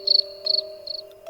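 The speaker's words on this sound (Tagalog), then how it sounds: "Nakakapanindig balahibo din yung tunog ng kuliglig at alulong ng aso pag narinig mo sa madaling araw." Crickets chirp at dawn in the countryside, steady pulsing trills close by in three bursts over a constant insect drone, with no voices.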